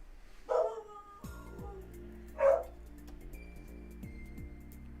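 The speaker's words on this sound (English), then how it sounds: "the dog's upset" A dog gives two separate barks, each one short and sharp and about two seconds apart. They sound over a steady tinkling musical background, with a soft beep near the end.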